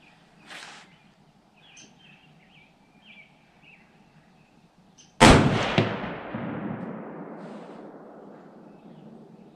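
A single sharp blast from a Ruger American .30-06 rifle with a Primary Arms 4-14 44mm scope, fired at a 100-yard target outdoors. It is close and loud, with a long rolling echo, and faint birdsong sits under it beforehand.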